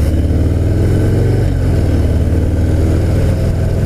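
A Harley-Davidson FXDR 114 rumbles steadily on a test ride, a loud, continuous low engine drone with a slight rise in pitch partway through and wind rush layered over it.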